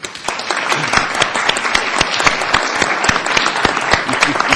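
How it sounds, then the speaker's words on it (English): A city council meeting chamber fills with a round of applause, many hands clapping steadily and fairly loud throughout with no talk over it. "Can we get a round of applause?"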